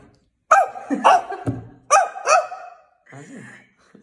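A human voice imitates a dog with several sharp, barking bursts grouped in twos, loud and close, followed by a softer whining sound.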